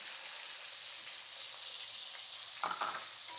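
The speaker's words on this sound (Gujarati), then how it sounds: "અને ટામેટાં અને મરચાંને બરાબર સાંતળી લેવા।" Chopped tomatoes and green chilli paste sauté in hot oil for a Gujarati undhiyu dish, a soft, steady sizzle at low volume with a couple of faint stirring scrapes near the end.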